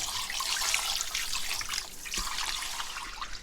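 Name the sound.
rinsing oxtail in water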